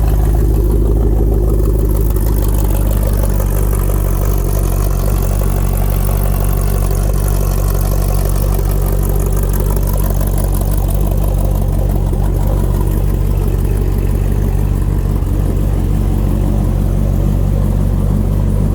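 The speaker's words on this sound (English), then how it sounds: "Got a little kick when it first fires. It calms right down and idles beautifully." The LT4 V8 in a Superformance SL-C idles steadily and loudly throughout, a deep, even rumble with no revving and no voices.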